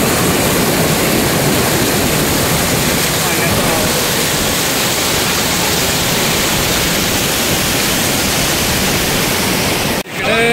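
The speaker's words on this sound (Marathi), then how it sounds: "इकडं पाणी पडतंय बघा" Water falling at Kandwan dam, a loud unbroken roaring rush of water that stays constant throughout and cuts off briefly at the very end.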